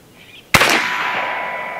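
Challenger Pro 357 PCP air rifle firing a 9mm slug outdoors at a target 75 feet away, one sharp loud crack with a long ringing tail.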